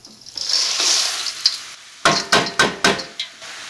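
Peas tipped into a hot pan with unevenly cut onions for pasta with peas, giving a rising sizzle followed by a run of four or five sharp stirring scrapes and clatters against the pan.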